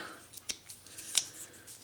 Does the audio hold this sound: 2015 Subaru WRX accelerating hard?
no